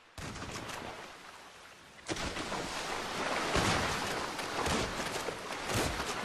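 Gunfire from a match of the video game GTA V: a burst of shots opens, then after a short lull denser, sustained volleys roll on at steady loudness, with a faint breezy wash beneath.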